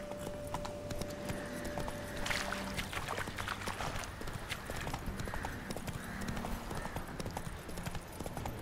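Horse hooves clip-clop steadily at a riding pace in The Witcher 3: Wild Hunt, the rhythmic clatter constant throughout with game ambience beneath.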